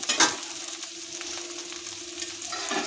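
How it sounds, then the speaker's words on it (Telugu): Okra pieces frying in a pan for okra chutney give a steady, close sizzle with a crackling hiss throughout, a louder burst near the start and occasional stirring scrapes. "ఇప్పుడు బెండకాయ ముక్కలు అన్నీ వేగిపోయినాయండి"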